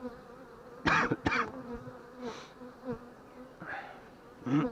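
A steady honeybee hum drones around a hive throughout, broken by several loud nearby coughs.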